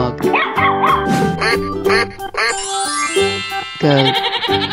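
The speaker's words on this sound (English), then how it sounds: "Dog." A cartoon dog barks in a quick run of bright yaps and yips mixed with bleating animal calls and musical tones, loud and close, with no talk over it.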